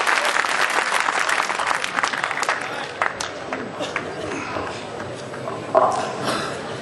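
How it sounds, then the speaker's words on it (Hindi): Thunderous audience applause at an all-India Hindi poetry gathering in Ujjain, loud and dense at first, then thinning and fading over several seconds amid crowd noise and scattered voices. "आप सबकी जोरदार तालियों की गड़गड़ाहट"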